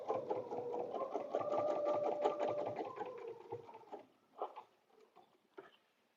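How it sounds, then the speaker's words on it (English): Sewing machine stitching a butterfly antenna on a paper-pieced dresser scarf: a continuous close mechanical whirring hum for about four seconds, then a few short bursts and soft clicks as it slows and stops. "I'm going to stitch my second antenna"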